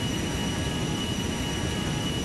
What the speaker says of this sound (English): I'm just gonna borrow this jet plane here.